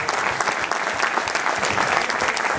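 Festival crowd at a musical tribute gives the visiting Germans a sustained round of applause, thick continuous clapping at even loudness throughout.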